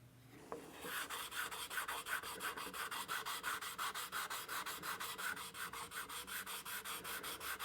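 The wooden headstock of an archtop guitar neck is finish-sanded by hand in quick, even back-and-forth strokes, a close, rhythmic rasping that continues steadily.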